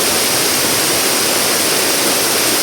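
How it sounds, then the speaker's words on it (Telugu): Katiki waterfall on a trek route pours steadily, a loud, dense, unbroken rush of falling water heard up close with no voices over it. "కటిగా వాటర్ ఫాల్ ఇంత అందంగా ఉంటుందో తెలియదు నాకు"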